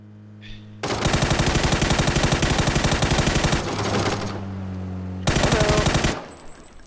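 Sustained automatic weapon fire from the PUBG battle royale game, one long rapid burst followed by a second shorter burst, loud and close with no talk over it.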